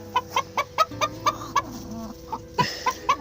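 A hen clucks repeatedly in a quick, steady rhythm of short sharp notes, close by, with a louder rising squawk near the end.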